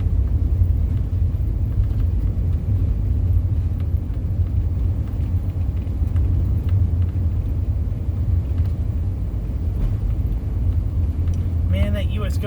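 Car driving along a maintenance road in the Everglades, a steady low engine and road rumble heard from inside, continuous and fairly loud throughout.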